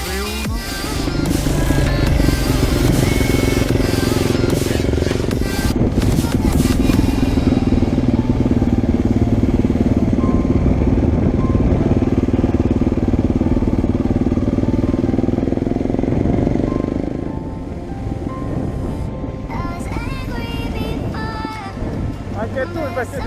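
Several motorcycles idle and rumble, among them a recent Yamaha R1. A loud, sustained engine drone fills most of the stretch under wind noise, then eases off. People talk nearby.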